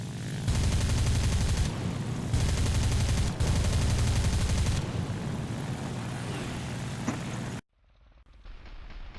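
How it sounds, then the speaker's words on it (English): Aircraft cannons fire during a video game dogfight, with three loud, rapid bursts over a droning engine. The engine roar continues alone until the sound cuts off abruptly, leaving a faint hum. "slide out of Tyler's cannon rounds"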